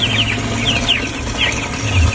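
Chickens on a poultry farm clucking and squawking in repeated short calls, with bursts of wing flapping over a constant low hum of the shed, close and fairly loud, no talk.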